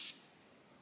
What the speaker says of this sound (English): And I always spray a little bit of setting spray